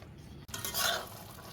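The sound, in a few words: spice mixture being stirred with water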